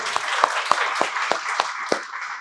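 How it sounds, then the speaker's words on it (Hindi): Participants at a fun parents' learning session break into applause, a short burst of quick, fairly even hand claps from a small group, close and lively, with no talking over it. "जोरदार ताली आप सभी के लिए"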